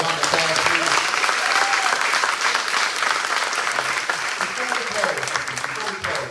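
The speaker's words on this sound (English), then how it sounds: "Can we give our panel a round of applause, please?" At a blind removal event, the audience applauds a panel, a full round of clapping that stays loud and dense, with some voices and cheers in the crowd.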